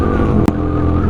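A Yamaha R15 motorcycle engine drones loudly and steadily during a group highway ride, with a brief sharp dip and whoosh partway through, no talking.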